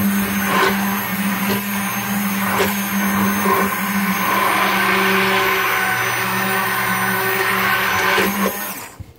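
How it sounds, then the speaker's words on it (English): A stick blender whirs through a coconut soap mixture, a loud steady motor whine with a few brief bumps and pulses as it works, running alone for about nine seconds before cutting off. "I'm going to blend this for about a minute or two"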